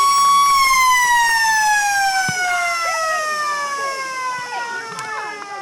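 A loud, sustained siren at an Australian rules football ground wails across the whole stretch, ending the first quarter, slowly sliding downward in pitch, with crowd noise and commentary underneath.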